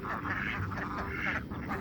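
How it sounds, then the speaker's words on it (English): A small duck quacks nearby on a farm, a couple of short raspy calls in quick succession against a busy, noisy outdoor background. "there's a little duck that's been getting a lot of loving"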